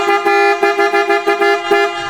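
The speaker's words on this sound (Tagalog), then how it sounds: "So try natin yung kanyang horn mga boss" A loud, deep bass-type PIAA car horn on a Toyota Hi-Ace honks in a quick series of short blasts, about seven pulses in a rhythmic pattern, close and alone.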